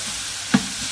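Chillies with onions added on top frying in hot oil, a soft steady sizzle with one sharp tap of a utensil midway, close and brief, no voices.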